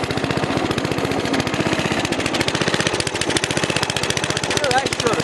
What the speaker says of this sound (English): The motor kind of surges around and wanders a little bit.